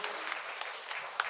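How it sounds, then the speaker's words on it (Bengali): Audience applauding at the opening of a theatre festival, a steady dense wash of clapping with a few sharper claps standing out, moderately distant. "সকলে একটু হাততালি দেবেন।"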